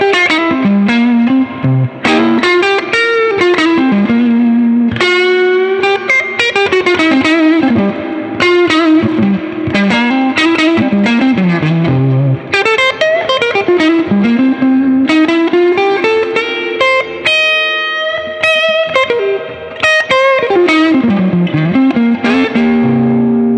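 Electric guitar tones with a bridge humbucker in a vintage rock style, heavily fuzzed and distorted, played loud and alone as a continuous run of riffs and sustained bends.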